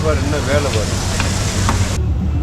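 Kothu parotta sizzles on a hot griddle at a street food stall, making a constant frying hiss with a few sharp scraping knocks. A voice talks over the first part.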